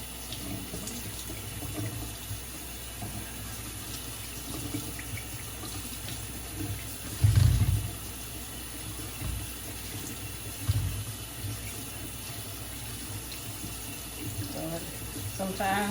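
Tap water runs steadily into a kitchen sink while a roast is rinsed under it, with a couple of louder splashes and thumps partway through; a quiet, continuous stream with no talk.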